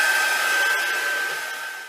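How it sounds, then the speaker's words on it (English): A heat dryer blows steadily on an art journal page coated with clear gesso and distress oxide ink, a loud, even whirring hiss with a thin whine that fades slightly near the end. "Let me just hit this with the dryer."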